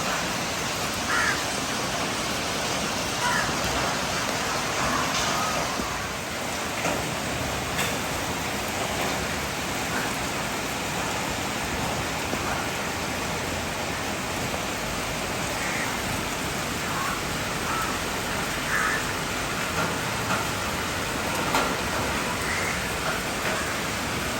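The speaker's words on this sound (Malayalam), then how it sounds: "അത്യാവശ്യം മഴ പെയ്യുന്നുണ്ട് കേട്ടോ" Steady rain falls outside an open window, a continuous even hiss throughout, with a few faint bird calls in the distance.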